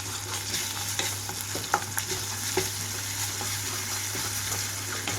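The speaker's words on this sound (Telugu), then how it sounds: "ఇందులోనే అల్లం వెల్లుల్లి ముద్ద కూడా వేసేసుకొని వేయించుకుంటున్నాను." Ginger garlic paste fries with onions in a pan, a constant close sizzle broken by repeated clinks and scrapes of a spoon stirring, with no voices.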